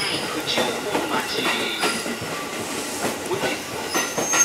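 A JR Musashino Line commuter train moves at Fuchūhommachi station platform, with steady rail rumble, clattering wheels and brief squeals filling the space up close.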